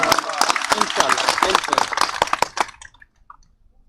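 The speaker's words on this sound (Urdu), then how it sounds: "لیکن میری طاقت وہ چاچا پیچھے بیٹھ کے جیسے تالیاں بجا رہا ہے" An audience member seated at the back of a Chaudhry Nisar press conference claps along with others, producing dense, brisk applause for under three seconds before it stops abruptly into near silence.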